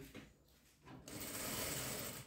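Sewing machine stitching a seam on a beginner patchwork bag, quiet at first, then a steady continuous whirring run of stitches for over a second, soft and close.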